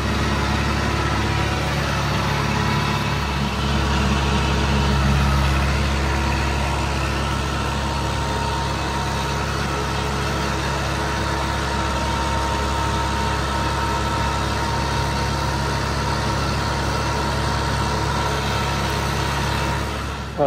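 Small tractor engine running steadily while rolling grass on a hot day, a constant low drone with mid-range rumble that holds at one level throughout, with no talking.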